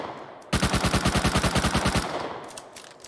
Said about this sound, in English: So here's the legit MP5 recoil.